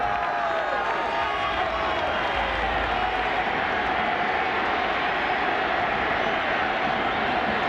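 A stadium crowd roars steadily at the Ohio State vs South Carolina Outback Bowl college football game, a dense, loud, continuous wall of cheering with no break.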